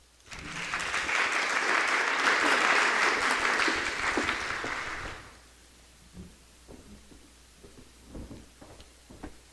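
Audience applause welcoming Tim Heaphy as a speaker at a law school talk, a full room clapping steadily for about five seconds before fading, followed by quiet shuffles and small knocks.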